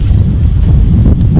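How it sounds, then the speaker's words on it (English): Strong wind buffets the microphone on a fishing bank by the water, a loud, constant low roar with no breaks. "It is extremely windy"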